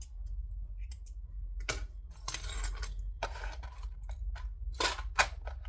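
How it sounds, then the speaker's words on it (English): Sharp snips of scissors trimming thread tails after back stitching on a sewing machine, several quick close cuts and small clicks spread over a low steady hum, no talking. "And then trim off those tails."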